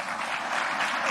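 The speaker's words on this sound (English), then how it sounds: "They clapped at that, by the way." An audience claps in a brief, dense burst of applause that stays steady and fairly loud throughout.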